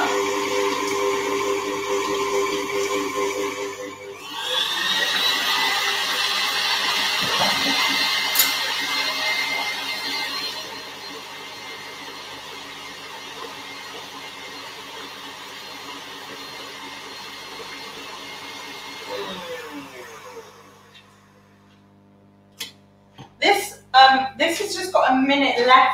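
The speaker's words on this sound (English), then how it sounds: "We're just going to pop that through again and whisk that up." Electric mixer whisking icing sugar and double cream for a vanilla tray bake cake, a steady motor whir under a voice that runs through the first twenty seconds before the machine stops.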